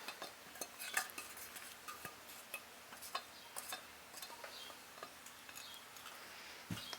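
Spatula stirring boiled Sure-Gel pectin and water into raspberry freezer jam, a soft steady scraping with faint irregular clicks and taps against the bowl, quiet and close with no voices.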